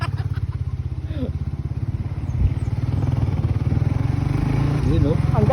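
A Suzuki motorcycle engine runs close by with a steady, pulsing rhythmic chug, blipped and revved now and then, under occasional chatter from people nearby.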